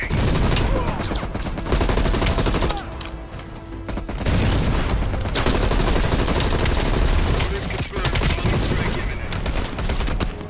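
Dense, sustained machine gun fire and layered gunshots from a Call of Duty: Black Ops Cold War battle roar loudly almost without pause, with brief dips, while voices occasionally sound beneath the din.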